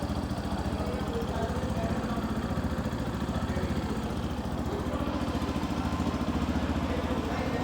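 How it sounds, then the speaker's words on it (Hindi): A Yamaha 155 cc motorcycle engine idles with a steady, even, throbbing rumble, close and continuous throughout. "अब आइडियल कंडीशन पर इंजन साउंड सुनिए इसका"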